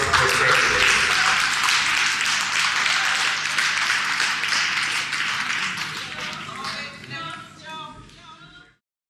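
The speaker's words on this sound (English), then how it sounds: "So if we could give a round of applause for everybody" An audience at a community event in Leeds gives sustained applause. Many hands clap densely and steadily, then the clapping thins out and fades away.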